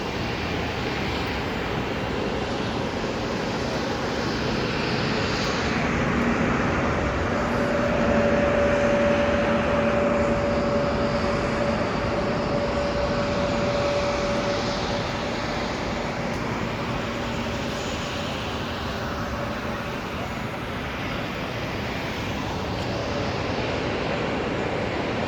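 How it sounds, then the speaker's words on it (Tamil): At Zurich airport, an airplane's engines give a steady, broad roar that holds nearly constant, with a faint thin whine rising briefly in the middle. "இந்த ஃப்ளைட் இதில் ஏறப்போகுது."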